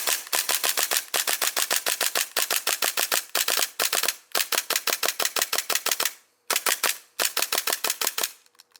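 Stock Hi-Capa airsoft pistol fired as fast as the trigger can be pulled, sharp snappy shots in quick bursts of rapid clicks separated by brief pauses, loud and close.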